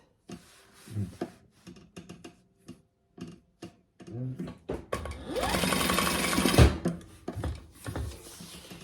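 A sewing machine bastes bag panels in short stop-start bursts, then one longer fast run of stitching near the end, close up with a few light clicks between bursts.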